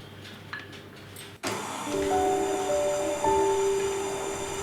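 Butter is whisked into a lime cream mixture for an eggless lime layer cake. A steady whirring hum starts abruptly after a quiet opening and runs continuously up close, with faint rising tonal whines.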